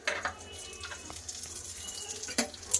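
Chopped garlic frying in hot oil in a pan gives a steady, close sizzle with a few sharper crackles and stirring bursts near the end.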